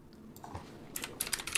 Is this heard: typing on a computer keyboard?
yes